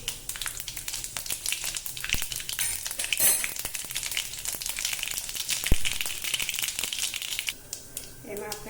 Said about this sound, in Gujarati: તેલ આપણું ગરમ થઈ ગયું છે તે તેલમાં આપણે એમાં નાખશું રાઈ જીરું